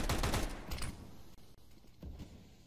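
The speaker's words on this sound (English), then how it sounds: "That clean shot from Donk is followed up by another." Counter-Strike 2 gunfire: a quick volley of loud shots crackling right at the start, followed by a couple of sparser shots and game noise, with no talking.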